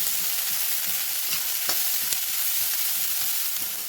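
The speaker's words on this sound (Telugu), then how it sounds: "ఉల్లిపాయలు అనేది వేసేసుకొని సేమ్ మన ఎగ్ కర్రీకి ఎలాగైతే ఆనియన్ని ఫ్రై చేసుకుంటామో అలాగే ఫ్రై చేసుకోవాలండి" Onions sizzle and fry in a pan, a steady close crackle with a few sharper pops and light stirring scrapes, and no voices.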